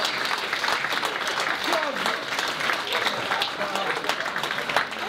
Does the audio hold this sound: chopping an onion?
no